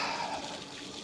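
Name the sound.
boots splashing through water on trail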